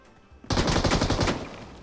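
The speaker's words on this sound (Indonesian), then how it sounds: "Kaget gue, teman gue nembak." Rapid automatic gunfire in a shooter video game breaks out suddenly after a brief quiet, a loud, close burst of fast repeated shots that fades slightly toward the end.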